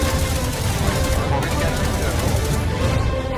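Dense, continuous gunfire from a shooter video game while players shoot people, loud and unbroken for the whole short stretch. Voices talk over the shooting.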